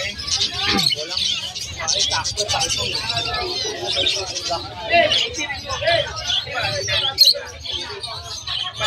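Black line finches chirp busily in a crowded aviary, with many small high tweets and squawks layered together while someone talks over them.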